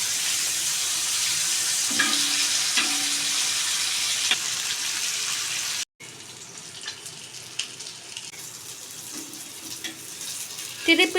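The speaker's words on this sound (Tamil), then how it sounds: "திருப்பி போட்டு நல்லா ஃப்ரை பண்ணுங்கள்." Fish fry sizzling in a pan after being flipped, a fish coated only in chilli powder, salt and lemon: a dense, continuous hiss of hot oil, briefly cut off once, then resuming with faint scrapes and taps.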